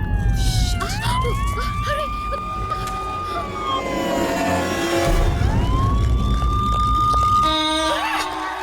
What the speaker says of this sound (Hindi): इसमें क्या है? पुलिस सायरन है